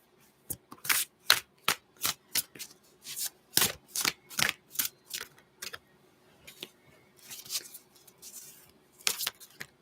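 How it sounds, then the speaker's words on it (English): Tarot cards are shuffled by hand in a steady run of crisp, close riffling snaps, pausing briefly now and then, with no voices. "I will just shuffle them for a bit"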